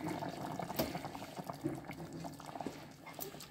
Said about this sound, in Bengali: আমি বাটিতে ঢেলে